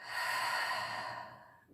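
A person exhales slowly and steadily while holding posture in an abdominal diastasis exercise, a soft close breathy rush that fades toward the end.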